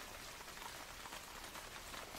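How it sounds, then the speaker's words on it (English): Rain falls in a steady, soft patter with a faint, even wash of drops and no voices. "Today it's raining."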